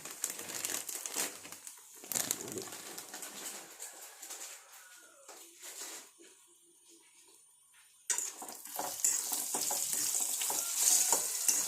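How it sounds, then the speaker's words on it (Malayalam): Dried red chillies fry in a pan of oil in a home kitchen, giving a crackling sizzle that settles to a quieter hiss midway, then bursts louder and busier again. "കുറച്ച് എണ്ണ ശകല എണ്ണയും കൂടെ ഒഴിക്കണം കുറച്ച് മുളകും കൂടെ വറുക്കാം"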